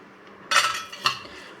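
Ground lentil paste mixed with chopped onion and curry leaves in a bowl, two quick scraping, clinking strokes of a spoon close by against near silence.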